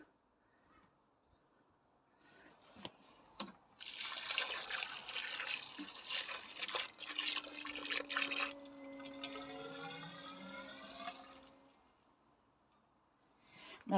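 Water is poured onto the base of a newly planted tree, a soft splashing gush that starts after a few quiet seconds, runs for several seconds, then trickles and fades near the end.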